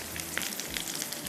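Aloo cutlets shallow frying in a little oil on a tawa, giving a steady close hiss and light crackle with small pops throughout the short stretch.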